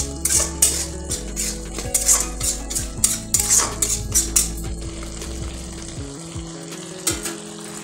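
Chana dal with grated coconut stirred in a metal pot, a spoon scraping and clinking against the sides in uneven strokes over a soft sizzle, fairly close, with no talking.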